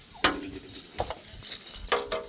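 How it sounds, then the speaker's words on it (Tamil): Marinated cauliflower pieces for South Indian cauliflower 65 dropping into hot oil, with a few sharp crackling bursts of frying and stirring over a soft sizzle. "இப்போ வந்து பொரிச்சு எடுக்க போகிறோம்"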